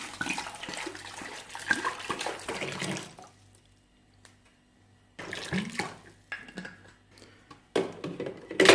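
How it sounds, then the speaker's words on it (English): Cold water poured into a Silvercrest SEMK 105 ice maker, a close splashing, gurgling stream in two separate pours with a quiet pause between. "Now we're going to put water inside and we're going to start testing"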